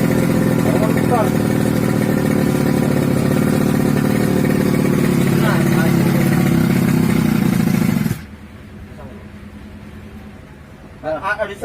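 Small two-stroke grass cutter engine, just fitted with a new piston, running loud and steady for about eight seconds before cutting out, leaving quiet clatter and a brief voice at the end.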